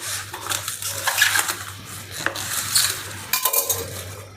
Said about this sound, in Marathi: आता आपल्याला ही पाने एकदम बारीक कट करून घ्यायची आहे